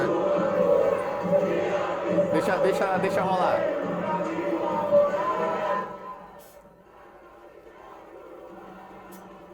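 Football fans celebrate at Estádio Castelão, a loud mass of chanting and cheering that rises, then drops sharply to a quiet murmur, with a voice talking over it.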